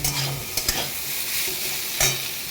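Vegetables stirred and fried in a home-kitchen pan, a steady sizzle under scraping spatula strokes, with a few sharper clinks of utensil against metal, close and alone.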